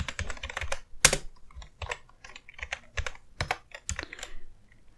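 Fingers type on a computer keyboard in bursts of rapid, crisp clicks with short pauses, close up and with no talking.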